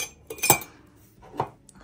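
Mugs and metal measuring spoons are handled in a home kitchen, giving two short clinking clatters, close and moderately loud, with quiet gaps between and no speech.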